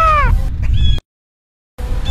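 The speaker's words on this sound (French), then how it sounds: "il y a beaucoup trop de bruit là, l'oiseau qui se donne." Outdoors on a morning walk with a dog, a bird calls loudly and close by with sliding, warbling cries, then breaks off into a brief silence before resuming.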